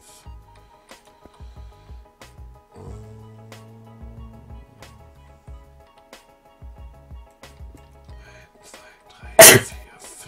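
A single sharp, loud sneeze bursts out near the end of a quiet stretch of scattered soft clicks and faint tones from a computer game.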